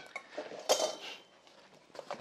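Bellacopel Combi S9 camping cookware, a 20 cm and a roughly 17 cm metal pot, nested together with close, light metallic clinks and scrapes scattered across a couple of seconds.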